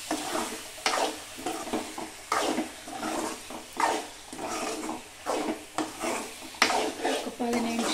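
Small fish are stirred in a pan, producing repeated close scraping strokes of a utensil against the pan with a light sizzle, arriving in rhythmic bursts about every second, with no talking.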